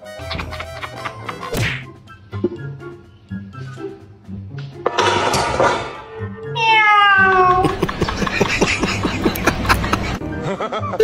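A cat meows several times at close range, mixed with sharp whacks, thuds and bits of laughter.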